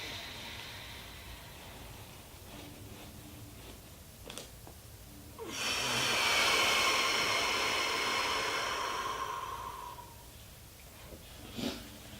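Strong exhaled breaths during a leg stretching routine, a long airy rush lasting several seconds after a quieter stretch, with a couple of short sharp snorts or sniffs, close and alone with no talking.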